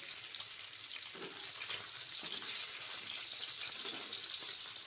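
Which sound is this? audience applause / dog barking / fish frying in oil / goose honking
fish frying in oil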